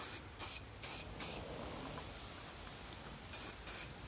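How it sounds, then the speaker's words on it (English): Aerosol spray paint from a black can hisses out in several short bursts near the start, then pauses and returns with two more bursts near the end, close and steady. "the black can has a lot more coverage, has a lot more spray coming out"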